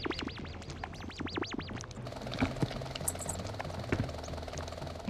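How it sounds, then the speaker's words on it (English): A vehicle in the video game Vangers gives off a helicopter-like effect, a rapid rhythmic whirring with a wavering pitch that is prominent for the first two seconds, then fades into a busy mechanical game background. "For some reason, my vehicle has the helicopter sound effect."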